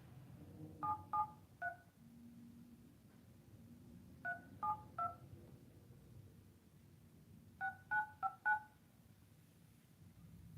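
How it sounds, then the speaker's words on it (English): A telephone keypad sends DTMF tones while a 10-digit number is entered, heard as three quick clusters of short, clear beeps separated by pauses over a low, quiet hum. "Please say or enter the 10-digit number you were calling about,"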